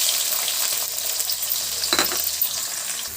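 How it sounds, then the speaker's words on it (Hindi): Chopped onions sizzle in hot oil with cumin seeds in a pan over a medium flame, a steady close hiss with a brief stir or clink near the middle and no voices. "प्याज को हमें तब तक फ्राई करना है जब तक ये गोल्डन ब्राउन ना हो जाए"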